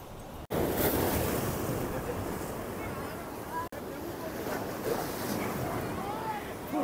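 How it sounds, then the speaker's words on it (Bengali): Ocean waves surge and wash up on the beach at South Vizag, Visakhapatnam, a loud continuous roar of surf with wind buffeting the microphone and brief dropouts. "ও ভাই জল চলে আসছে, দেখো।"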